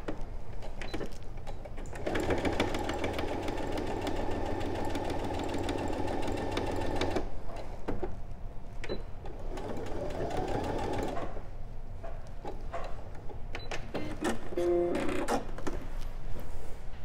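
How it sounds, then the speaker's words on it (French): A sewing machine stitches a small mini quilt, running in a steady, close mechanical whir for several seconds, then stopping and restarting in shorter bursts. "et on va à la machine la coudre."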